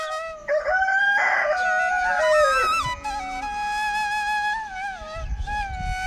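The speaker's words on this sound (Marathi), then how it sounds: "कोंबड्याने बांग दिली" A rooster crows loudly and close by, a long drawn-out call with no talking.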